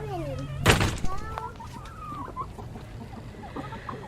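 Chickens clucking and calling inside a coop, several birds close by with rising squawks, plus a sharp thunk near the start as a door is shut, no speech.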